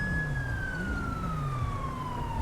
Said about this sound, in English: Why does he have to have his sirens on?